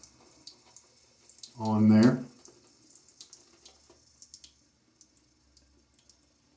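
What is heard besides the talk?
water dribbled from tap onto shaving soap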